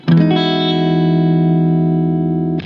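An electric guitar through effects pedals, EQ set with boosted treble for a brighter tone, rings out one loud sustained chord for about two and a half seconds before being cut off.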